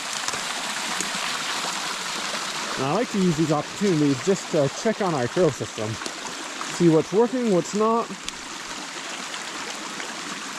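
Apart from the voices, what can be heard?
rain falling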